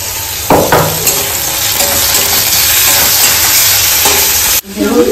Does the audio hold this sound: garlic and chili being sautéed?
yes